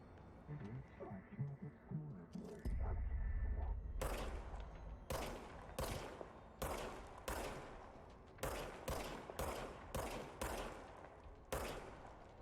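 Gunfire from a weapon in the action video game Control rings out in a string of loud single shots spaced irregularly, following a brief stretch of low rumbling game ambience.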